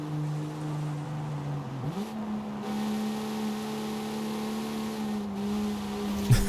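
A car in the Forza racing game labours to accelerate on a highway on-ramp, with a steady, strained engine drone that shifts pitch once and then holds a flat, sluggish tone.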